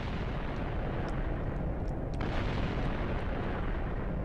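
A nuclear missile from the Voltz mod in Minecraft strikes a building, producing a sustained, loud roaring rumble with faint crackling bursts scattered through it.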